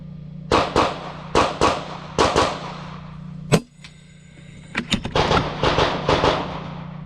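FX air rifle firing slugs outdoors: a series of sharp, loud shots, about four evenly spaced, then a single crack followed by a cluster of rapid impact clanks and rattles, all over a steady low hum.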